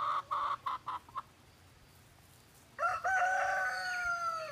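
Chickens cluck in a few short bursts near the mic, then a rooster lets out a loud, drawn-out crow that fills the last second and a half, with no talking.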